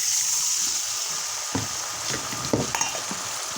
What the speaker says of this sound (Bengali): এর মধ্যে এবার মশলার বাটি ধোয়া জলটা দিয়ে দেবো।